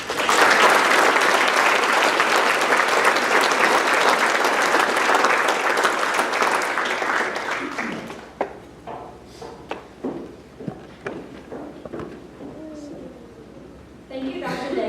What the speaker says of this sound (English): Please give them your round of applause.